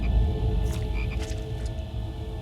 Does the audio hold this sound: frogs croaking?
yes